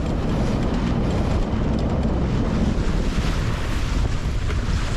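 Strong wind buffets the microphone over a steady roar of rough waves hitting a sailboat at sea, loud and constant throughout with no voices.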